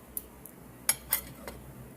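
Cutlery clinks and scrapes against a plate while cutting a piece of tender Jamaican brown stew chicken, a few brief, faint taps scattered over quiet background.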